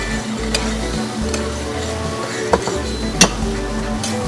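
Garlic and cream mixture for mushroom soup being stirred in a pan, with a loud, close sizzle and scraping strokes throughout and a few sharp clinks of the utensil against the pan.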